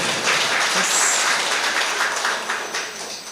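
An audience applauds at a spiritual gathering, a dense wash of many hands clapping continuously, loud and close, tapering slightly toward the end.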